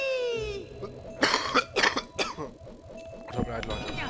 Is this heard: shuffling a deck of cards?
no